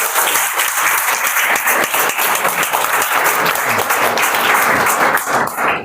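Students at a motivation seminar give loud, continuous applause, a dense steady clapping close and strong that cuts off at the end.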